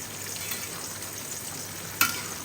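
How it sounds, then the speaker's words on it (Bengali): Fish frying in a pan on a home stove, a constant close hiss and sizzle of hot oil with a brief sharp pop or spatter near the end, no voices. "এদিকে দেখো মাছ ভাজা হচ্ছে"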